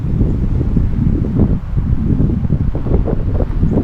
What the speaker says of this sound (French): Il y a comme une centrale hydroélectrique en arrière, fait que ça fait un bruit.